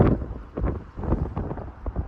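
Gusty wind on a cold, snowy day batters the microphone, low rumbling bursts rising and falling in quick pulses.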